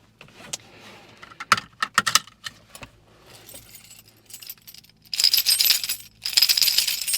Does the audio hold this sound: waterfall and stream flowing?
no